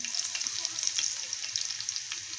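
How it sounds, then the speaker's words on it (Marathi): Garlic and green chilies fry in a pan with a bright, steady sizzle and faint stirring crackles, continuous and fairly close across the short stretch, with no talking. "हे मस्त असं आपण भाजून घेऊया"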